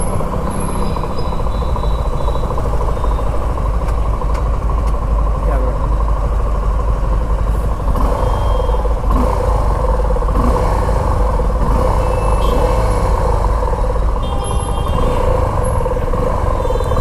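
A Suzuki V-Strom motorcycle engine runs steadily at idle, a continuous loud rumble with a bubbling, popping character, close by outdoors near a showroom, with faint background sounds throughout.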